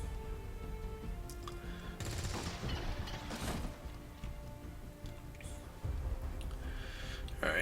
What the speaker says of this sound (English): Gonna fire at that guy.